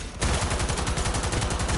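A gun fires in Cyberpunk 2077, a rapid, steady burst of shots that starts abruptly after a brief quiet moment and continues loudly to the end.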